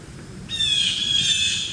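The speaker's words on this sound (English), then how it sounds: "Still where the blue jays are yelling at me" A blue jay's single harsh, sustained squawk rings out loudly after a short quiet start, holding steady against faint outdoor background noise in late-summer Central Pennsylvania woods.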